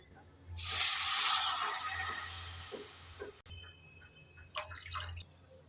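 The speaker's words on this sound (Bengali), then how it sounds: "এবার কড়াইয়ে দিয়ে দেব দুবাটি জল" Water poured from a bowl into a kadai pan on a gas stove, a loud steady splashing hiss lasting a few seconds then tapering off, followed by a couple of faint knocks.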